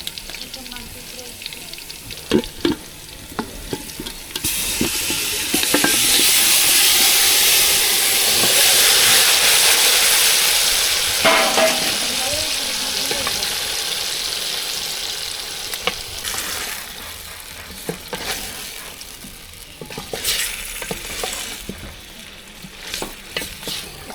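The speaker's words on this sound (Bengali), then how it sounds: "আমার পেঁয়াজ ভাজা হয়ে গেছে এখন গোশ ঢেলে দেবো" Duck meat tipped into fried onions in a pan sets off a sudden loud, steamy sizzle that gradually eases, with stirring scrapes and clatter before and after and some talk in the background.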